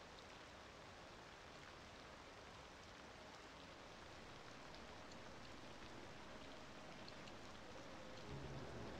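Soft, continuous rainfall in the video game Cities: Skylines II, hissing evenly, a steady wash of drops with no voices, faint and unchanging throughout.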